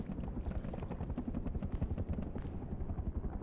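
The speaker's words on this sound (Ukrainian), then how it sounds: "Хто там з вертольотом має справу, щось я не поняв." Helicopter in the survival game Rust, a continuous low rotor chop throbbing rapidly at moderate distance, with no talk over it.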